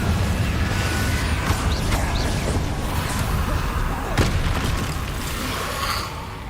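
Repeated Confringo blasting spells in Hogwarts Legacy land as booming impacts and bursts amid continuous loud game ambience and combat noise, with sharp hits standing out near the middle.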